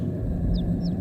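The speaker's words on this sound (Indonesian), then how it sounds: "aku mendengar suara anak ayam yang tadi ku dengar." A baby chick peeps twice, faint and brief, over a low, steady rumble in the horror game Nightmare Side, set in a factory mess hall in Subang.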